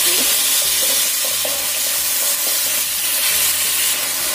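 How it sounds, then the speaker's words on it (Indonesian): Broccoli stems and carrots stir-frying in a pan, a steady close sizzle with scraping stirs and small clatters throughout, no talking. "Setelah berubah warna, masukkan gagang brokoli dan juga wortelnya. Tumis lagi."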